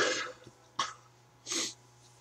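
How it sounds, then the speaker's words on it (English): A person sneezes, giving a few breathy, noisy bursts with a sharp onset and a longer final burst, close to the mic over a faint hum. "Sneeze."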